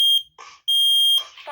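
A smoke alarm under test sounds a loud, piercing steady tone twice, each burst followed by a synthetic voice warning of fire.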